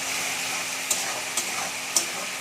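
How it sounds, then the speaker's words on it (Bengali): Masala being stir-fried in oil for Bengali-style chicken, a soft continuous sizzle with a few light scraping clicks from stirring at intervals, fairly quiet and close. "ভালো করে মশলাটা এবার কষিয়ে নেবো যতক্ষণ না তেল ছাড়ছে।"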